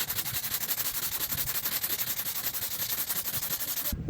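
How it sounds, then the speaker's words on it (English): Body putty being sanded on an El Camino door, a rapid, steady rasping scrub close up and loud, running continuously before stopping abruptly at the end. "so we got everything sanded"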